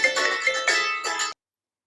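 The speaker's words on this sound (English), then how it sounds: "So sorry for the phone interruption." A phone ringtone plays close and loud during a computer screen demonstration, three bright melodic bursts in quick succession that then cut off abruptly into silence.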